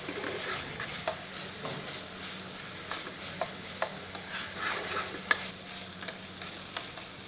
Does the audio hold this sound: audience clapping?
no